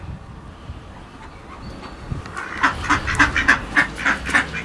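Ducks quacking outdoors, a rapid run of loud, close quacks in the second half that follows a stretch of quiet background noise.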